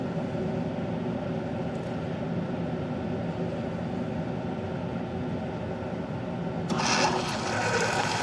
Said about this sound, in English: Now you hear the noise, and that's the noise of the steam.